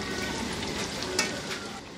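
Semolina and onion puri fry in oil with a continuous bubbling sizzle and one brief crackling spurt, close and moderately quiet, with no talk.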